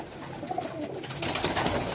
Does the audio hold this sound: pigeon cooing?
yes